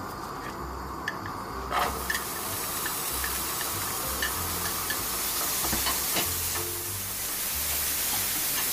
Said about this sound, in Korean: 팬에 식용유를 두르고 버섯을 넣어 볶아주세요.